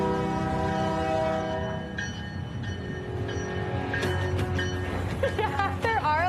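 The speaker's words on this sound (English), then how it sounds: "Train's finally arrived." Train pulling into a station, a long sustained horn blast that fades into rolling wheel and brake noise, with squealing screeches and people talking in the background near the end.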